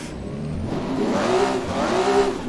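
An 800 HP Toyota Supra in a driving game on the Ebisu North track, engine revving hard and rising through the gears as the wheels spin, loud and close, with no talking.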